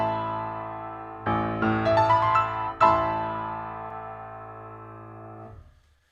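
A piano sounds a sustained low A with E above, then a few more notes and a brighter struck chord ring out and slowly decay into quiet, played alone in a class lesson.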